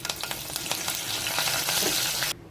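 Cumin and curry leaves sizzle in hot oil in a kadai, a loud close crackling fry with sharp pops that cuts off abruptly near the end.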